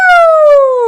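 A singer's voice imitating a siren during a singing lesson, one loud, clear sustained tone sliding smoothly downward in pitch for about a second, close and alone.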